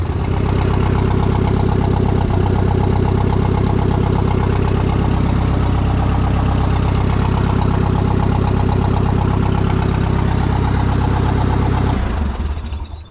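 A Yale forklift engine idles after a water pump replacement, a loud, steady, close-up rumble that runs unbroken for most of the clip before cutting off abruptly at the end.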